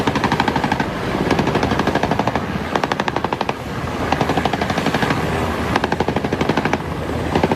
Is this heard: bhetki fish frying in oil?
no